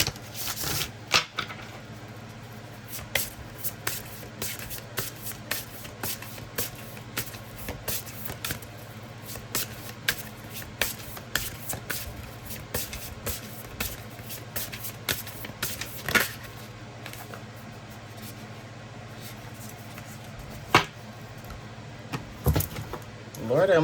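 Tarot cards shuffled and handled at close range, soft riffling and light tapping scattered over a low steady hum, while someone talks throughout.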